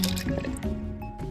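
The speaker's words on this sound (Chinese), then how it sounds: "加入100毫升的直饮水" Drinking water, about 100 ml, pours into a glass for an ice tea with lemon and ice, a short close gurgling fill with bubbly liquid sounds.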